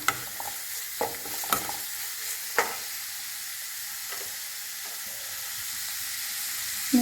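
Green chillies frying in a pan for a fish dish, a steady quiet sizzle with a few soft stirring scrapes and taps, heard alone.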